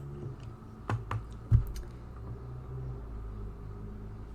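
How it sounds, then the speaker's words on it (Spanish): Keys on a computer keyboard are struck in a short run of taps, with a few sharper clicks that stand out, over a steady low rumble and hum in the room. "pulsar las teclas de Windows más R y vamos a escribir esto que os aparece aquí, gpedit.msc"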